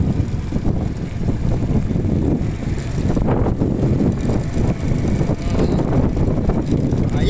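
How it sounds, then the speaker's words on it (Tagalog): Strong typhoon wind from Typhoon Aghon in 2024 buffets the microphone near a mega dike, a loud continuous roaring rumble with gusty surges and no pause. "Ayan, lalakas ng hangin, no?"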